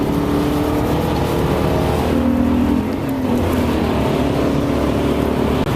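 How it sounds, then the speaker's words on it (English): A Honda Civic overtakes on a freeway at about 80 mph, heard from inside a moving BMW M5 as a steady loud road and engine roar with a mild swell as the car draws alongside and passes. "we've got a Honda Civic over here. Looks like he's going to fly by"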